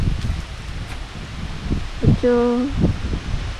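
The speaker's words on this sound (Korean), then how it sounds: "바람 소리 봐라, 언니, 바람 소리" Soft wind rustling through leaves outdoors, a faint steady hiss with gentle gusts, while a person speaks briefly close by.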